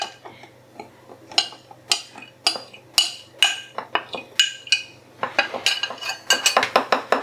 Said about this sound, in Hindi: तो इस तरीके से हम थोड़ा थोड़ा डालते हुए अच्छे से मिक्स करते रहेंगे।